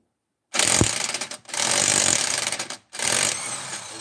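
A socket wrench ratchets backward to free a socket while brakes are being worked on: three loud, close bursts of rapid clicking ratchet noise, each about a second long, separated by short pauses.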